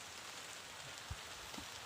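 Rain falls in a steady, even hiss, with a couple of soft low thumps partway through and no voices.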